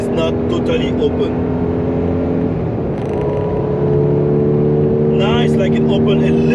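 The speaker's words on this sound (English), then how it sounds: "the engine doesn't scream that much because the exhaust is not totally open" A Porsche 981 Cayman S engine hums at steady revs with the exhaust not fully open, then dips and rises again with a rough exhaust note, loud and close throughout.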